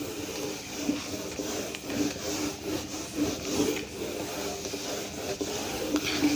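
Writing is rubbed off a classroom board with an eraser, a continuous scratchy back-and-forth rubbing at moderate loudness with soft rhythmic strokes and no talk.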